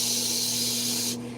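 A voice imitates an air spray can with a steady, close, loud hiss that holds for about a second before cutting off abruptly over a low background hum.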